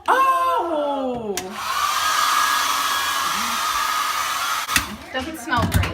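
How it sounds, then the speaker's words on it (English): A hotel-room hair dryer blows in a loud, steady whoosh for about three seconds, with brief voices before and after. "It's a hair dryer."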